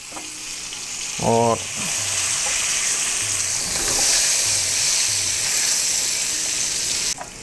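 Small colored potatoes frying in a pan give a loud, steady sizzle and hiss as they are stirred and mixed, with a brief voice and a few scrapes early on.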